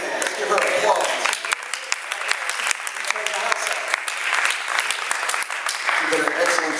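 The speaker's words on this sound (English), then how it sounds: "let's give her applause" Enthusiastic applause fills a town hall meeting, many hands clapping loudly and steadily with occasional shouts and cheers mixed in.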